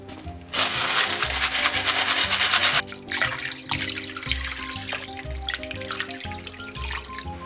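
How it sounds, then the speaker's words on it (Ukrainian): Clean water gushes steadily into a pot for a few seconds, then gives way to softer splashing and clinking, with music playing underneath. "тепер кладемо в кастрюлю, заливаємо чистою водою"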